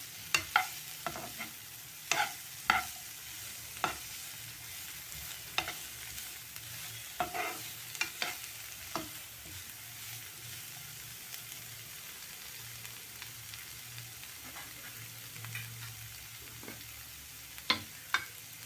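Chapati roll filling with red chilli fries in a pan, a faint steady sizzle under sharp, scattered scrapes and clicks of a spoon stirring, with no voices.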